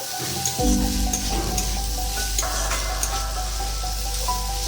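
Bitter gourd and mixed vegetables fry in a pan with a steady, loud sizzle, and a utensil stirs them with occasional scrapes and clinks, up close.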